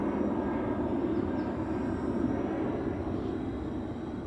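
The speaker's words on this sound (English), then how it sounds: "There's a big plane passing, so sorry about the noise." A big airplane passes overhead, a steady low broadband engine roar that stays fairly constant and distant, slowly easing toward the end with no talk.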